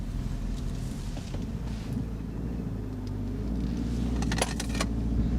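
A Chrysler PT Cruiser with a manual gearbox climbs a hill, its engine a low, steady drone heard from inside the car, with a faint jingle of keys over it.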